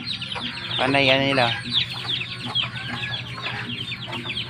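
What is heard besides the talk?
geese making noise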